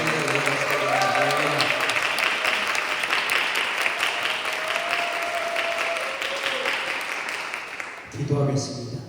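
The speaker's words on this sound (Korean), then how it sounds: "박수하고 환호로 모시겠습니다" Church congregation at a revival meeting in Incheon applauding steadily for several seconds, a dense wash of clapping with some cheering, ending with a brief voice near the end.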